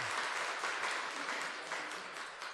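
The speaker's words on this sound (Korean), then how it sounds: "축하 박수 해주시기 바랍니다" Celebratory applause fills a Korean church during Sunday worship, a continuous, fairly soft spatter of many hands clapping at once for the whole stretch.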